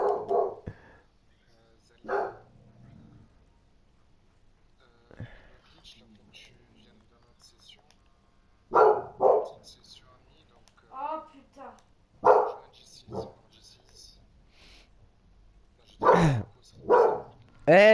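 A dog in Grand Theft Auto V barks in several short, loud bursts spread across the clip, with a couple of yips among them and quiet stretches between.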